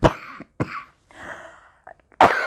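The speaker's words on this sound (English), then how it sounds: "I hope it is not a coronavirus cough." A lecturer in a history lecture coughs several times in short, loud bursts with brief pauses between them, close to the microphone, with no talk.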